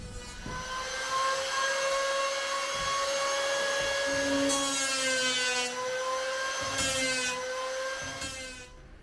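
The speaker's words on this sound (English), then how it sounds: "I'll actually just take a saw, just stay just above my line, and then we'll hit it with a planer after." A power planer or saw cuts along a pine deck beam, a loud steady motor whine with strong harmonics that holds for most of the nine seconds, with slight changes in load as the tool bites, then spins down at the end.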